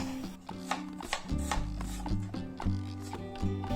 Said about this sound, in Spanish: cortaremos de la siguiente manera para obtener cuadritos pequeños